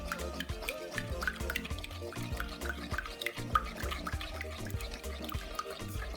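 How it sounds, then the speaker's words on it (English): Wet, squelchy stirring of a thick ugba (oil bean) mixture worked by hand, steady and close, with soft irregular slaps and drips and faint background noise. "So I'm gonna mix until I get the right texture that I want"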